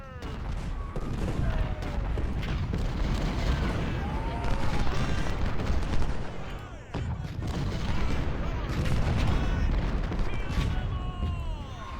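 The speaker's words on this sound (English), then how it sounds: "I'm gonna bring these 20-pounders over here. I'm gonna try and hit this battery." Cannon fire from Civil War 20-pounder artillery batteries in the strategy game Ultimate General: Civil War, a continuous rolling barrage of booms and crackling volleys, moderately loud, with a voice talking over it.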